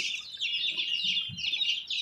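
Kaveri country chicks crowded in a poultry shop give off a dense, continuous chorus of high-pitched peeping and chirping, close and fairly loud, with a brief low thump partway through.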